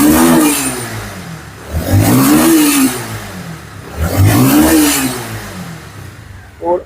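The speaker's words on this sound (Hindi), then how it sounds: "सेल्फ अप्लाई किया, गाड़ी इजीली स्टार्ट हो गई है।" A Bajaj Avenger 160 BS6 motorcycle engine, after a misfiring fix, starts on the self-starter and revs up twice in strong surges, each rise falling back to a rough idle, ending with a short blip.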